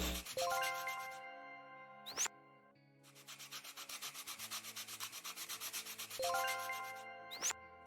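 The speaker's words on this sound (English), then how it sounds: "now we get to do all the individual hand sanding." Hand sanding in the woodworking game Toy Tinker Simulator: rhythmic scratchy rubbing strokes in quick repeated bursts, broken by bright tinkling chime cues at the start and end of each sanding pass.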